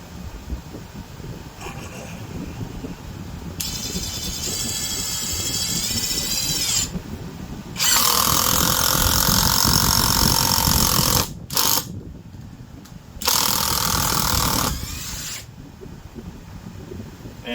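A Vevor brushless drill drives a 4-inch screw into wood in several loud, whirring bursts separated by short pauses, with background noise between the runs.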